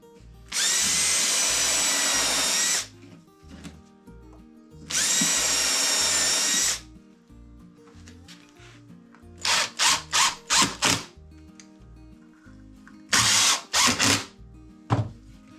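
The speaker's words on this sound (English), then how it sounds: "I want to take this end piece and drill the pilot holes but countersink them" A power drill whirs in two long bursts, then several short pulsed bursts as it bores countersunk pilot holes into a wooden end piece, loud and close, with quiet gaps between.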